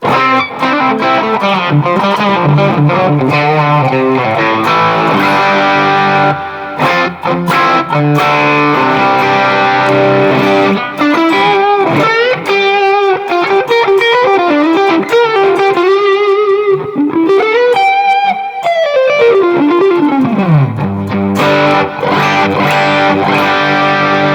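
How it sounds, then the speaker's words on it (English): An electric guitar runs through a Klon overdrive into a Deluxe Reverb amp, playing loud, sustained driven notes and chords, with bends and a long slide down near the end, alone without talk. "I'm just going to throw a Klon in front of our deluxe reverb here"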